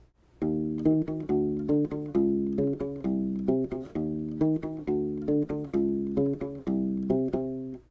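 An electric U-Bass plays a repeating disco riff of short plucked notes in a steady rhythm, moderately loud and unaccompanied.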